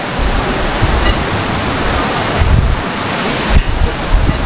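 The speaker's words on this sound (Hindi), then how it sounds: "उसी कुंड से ही ये झरना निकल रहा है" A steady, loud rush of a Himalayan waterfall pouring from a pool on the route to Adi Kailash roars without pause, a dense broadband wash close to the listener with slight surges.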